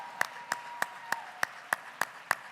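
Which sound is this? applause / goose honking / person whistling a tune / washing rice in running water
applause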